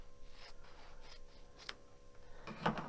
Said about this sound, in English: Then you cut it right in half, right on the line, like so.